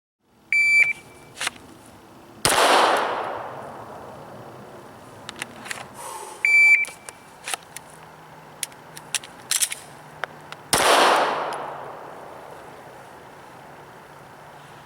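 Pistol shots fired after a fast draw from a Comp-Tac 2 o'clock holster: two sharp, loud cracks several seconds apart, with scattered small clicks and metallic handling noises between them.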